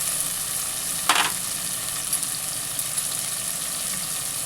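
Onion and biryani masala sauté in a pan for an egg biryani, a steady low sizzle broken by one brief scrape of the spoon early on and a few soft knocks.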